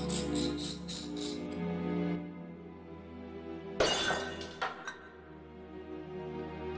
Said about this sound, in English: I smashed the tall urn into tiny pieces